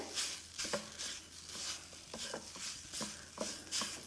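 A potato mixture cooking on high flame in a pan, with a soft, steady sizzle and repeated scraping stirs from a spatula, close and fairly quiet, no voices.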